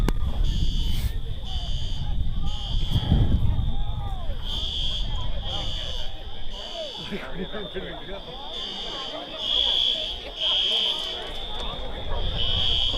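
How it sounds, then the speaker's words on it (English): A fire alarm blares at a high school varsity football stadium, a continuous shrill electronic tone pulsing throughout under a commentator talking and crowd noise. "Sounds like somebody pulled a fire alarm."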